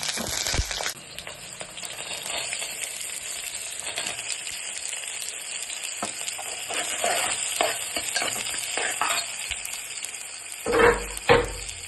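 Mustard seeds and green chillies fry in hot oil for a tempering for a drumstick-leaf bassaru, giving a steady close hiss and sizzle with scattered crackles and a couple of louder clatters near the end.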